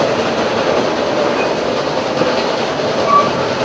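A Roaring Camp Railroad train rolls across a trestle on a tightly curving line, a loud, steady rumble of wheels and cars with faint squeals and clatter, heard close and continuous.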